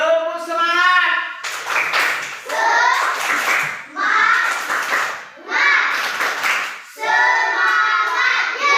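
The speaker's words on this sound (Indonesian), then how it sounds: "Ya, tepuk semangat." Schoolchildren in a classroom chant together while clapping a rhythmic spirit clap, with bursts of claps between sung phrases, loud and close.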